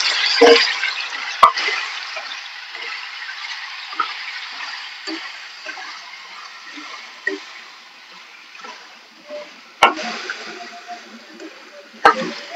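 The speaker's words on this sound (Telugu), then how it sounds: "ఇప్పుడు దీంట్లో నేను టమాటాలు వేసుకుంటున్నానండి." Chopped tomatoes tipped into a pan of frying fish and green chillies for a gongura curry, then stirred, giving a broad hiss with soft scraping and occasional sharp knocks against the pan, with no speech.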